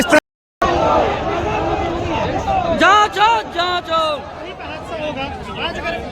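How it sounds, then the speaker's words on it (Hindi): Large crowd at a candle march procession in Mahagama, Godda, Jharkhand, with a dense hubbub of voices and shouted calls beneath someone speaking close up. "एकदम जनसैलाब उमड़ पड़ा है इस जुलूस में और कैंडल मार्च में"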